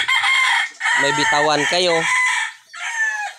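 Roosters crowing among clucking chickens in a backyard flock kept for breeding, two or three loud overlapping crows in the middle over steady hen chatter, with someone talking briefly.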